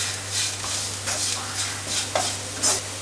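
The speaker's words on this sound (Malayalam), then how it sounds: "ഇതിലേക്ക് 1/2 ടീസ്പൂൺ കാശ്മീരി ചില്ലി പൗഡറും കൂടെ ചേർക്കാം. ഇനി ഇതെല്ലാം കൂടെ നന്നായിട്ടൊന്നും കൂടെ മൂപ്പിച്ചെടുക്കുക." Masala with half a teaspoon of Kashmiri chilli powder roasting in a pan, a soft continuous sizzle under repeated stirring and scraping strokes, close by, a low steady hum in the background and no voices.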